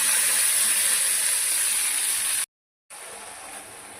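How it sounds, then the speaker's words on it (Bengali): Taro pieces frying with onion in a pan, a loud, steady sizzle and hiss that breaks off into brief silence, then resumes slightly quieter. "কচুটাকে আরেকটা পেঁয়াজ দিয়ে দিতে হবে, ভালো করে ভেজে নিতে হবে।"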